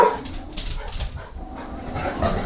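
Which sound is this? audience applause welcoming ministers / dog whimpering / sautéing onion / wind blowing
dog whimpering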